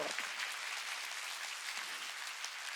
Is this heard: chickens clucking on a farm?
no